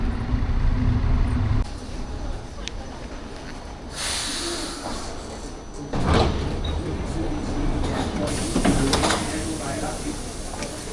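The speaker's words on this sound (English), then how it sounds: "And the metro arrives. Here we go. It's coming so slowly, but at least it's coming." A Milan metro train pulls slowly into Cologno Nord station, with a continuous rumble, hissing brakes and door sounds across the platform.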